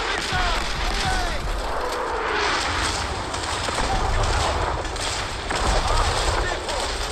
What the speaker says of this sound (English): Shells on you. Missile, away.